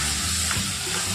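Washed rice hits hot oil in a pan, a dense close sizzle and hiss with a faint low hum, brief and steady throughout.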